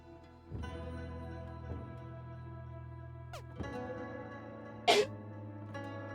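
A single short, sharp sneeze bursts out near the end over steady, droning video-game music from Slice & Dice.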